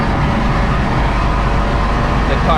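A car lapping the Nürburgring track gives a loud, steady engine and road roar throughout, with the engine briefly cutting out from fuel surge.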